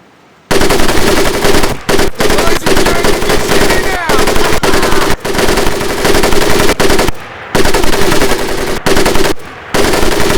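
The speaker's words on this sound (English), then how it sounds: "I want two men. One is to act as a spotter and reloader. The other will fire the weapon." A machine gun in the video game Medal of Honor Pacific Assault fires long, loud, sustained bursts broken by short gaps, very close and dominant, with no one speaking over it.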